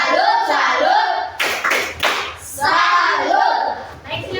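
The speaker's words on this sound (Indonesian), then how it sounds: "mari kita beri tepuk salut untuk kelompok 5" Classroom students clapping in a rhythmic pattern for classmates in group five, short bursts of hand claps alternating with children chanting in unison, loud and close.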